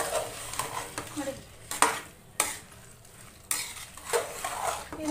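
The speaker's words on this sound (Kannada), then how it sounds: "ಇದೊಂದು ಅರ್ಧ ನಿಮಿಷ ಈ ಥರ ಒಂದು ಫ್ರೈ ಮಾಡ್ಕೊಳ್ಳೋಣ ವೀಕ್ಷಕರೇ" Ground spice paste frying in oil in a pan, a steady close sizzle broken by scraping stirs and occasional utensil clacks, with no talking.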